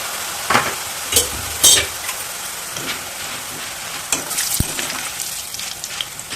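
Coriander and curry leaf burugulu frying in sunflower oil, a continuous bubbling sizzle with several sharp louder bursts of crackling and stirring near the start and again toward the end.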